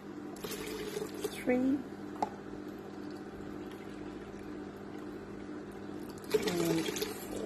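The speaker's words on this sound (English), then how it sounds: "So I'm about to add in my water." Water poured into a Thermocook Essential bowl while making breakfast porridge, a soft steady pouring wash with a few brief louder splashes near the start and end, faint over kitchen background.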